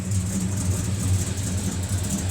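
A Holden fitted with a 308 V8 idles close by, giving a deep, steady rumble with a slightly uneven low throb and no revving.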